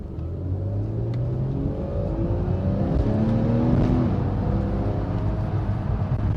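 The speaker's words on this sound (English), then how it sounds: "you get more of the vocal noise through the exhaust because it's not muted by turbos strapped in halfway along them" A naturally aspirated Porsche 911 Carrera S, 991.1-generation 3.8-litre, sounds a loud, steady exhaust note with rising engine revs throughout, close and continuous with no talking.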